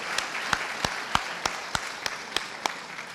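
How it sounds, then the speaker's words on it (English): Sparse, evenly spaced hand claps ring out at a volunteer awards evening. About ten distinct slaps land roughly every third of a second, quiet and fairly close, with nobody speaking. "One more round of applause for our fabulous middle school volunteers."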